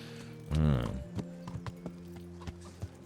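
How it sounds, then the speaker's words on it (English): Horse hooves walking in Kingdom Come: Deliverance, a steady clip-clop of single hoof knocks at a slow walking pace, fairly close, after a brief snort or whinny, with game ambience underneath. "this is a nice little stroll with a horse"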